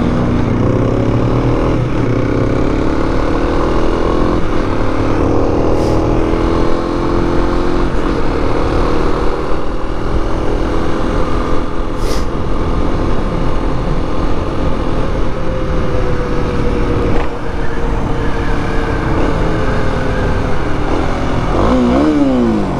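Engine of a first motorcycle running steadily and loudly throughout while being ridden, with rising and falling pitch as it revs and shifts, and a few sharp accelerations near the end.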